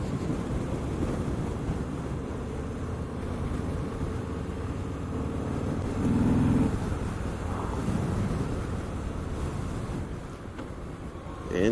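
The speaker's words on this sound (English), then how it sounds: "That's what I'm doing right now, is just strictly engine braking." A 2018 Low Rider motorcycle engine braking while riding, heard as a low, steady engine rumble largely buried under heavy wind buffeting on the microphone.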